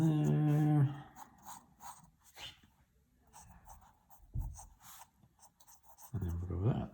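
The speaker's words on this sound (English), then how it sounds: "We'll draw more of a geometric, or more of a rectangular type of cube here." Pencil sketching a rectangular, geometric cube on paper: soft scratchy strokes in short bursts, faint and close, alternating with someone talking.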